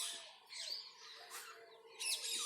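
Hill mynah birds chirping nearby, a few bright whistled calls and short tweets separated by brief gaps, fairly quiet and heard alone.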